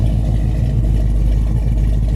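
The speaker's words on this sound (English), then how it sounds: "It's got a fantastic sounding big block engine with beautiful dual exhaust with headers" A 1969 Chevelle SS big-block V8 with dual exhaust and headers rumbles steadily at a close, loud, even idle, with no voices over it.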